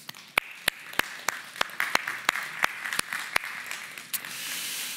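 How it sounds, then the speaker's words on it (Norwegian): Audience applause in a conference hall: sharp scattered hand claps at first that thicken into a steady wash of clapping, close and fairly loud, with no talk over it. "og da kan vi gi han en liten applaus"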